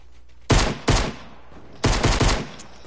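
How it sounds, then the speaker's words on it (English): SMG gunfire in a first-person shooter game plays as loud, close bursts of rapid shots, two quick bursts followed after a pause by a longer rattling volley. "He's spamming me with the SMG"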